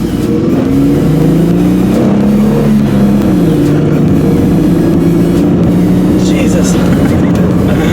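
A 2000 Ford Mustang accelerates hard in a 0 to 80 run, its engine note climbing through rising pitches, dropping at each gear change and climbing again, loud and close, with brief speech over it.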